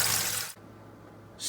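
Water runs from a tap into a pot for about half a second, then cuts off to near silence before the flow starts again at the end, with no voices.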